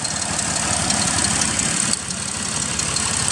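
2005 Toyota Highlander engine idling with a misfire, a steady close mechanical rumble with a faint uneven pulsing, continuous for a few seconds with no voices.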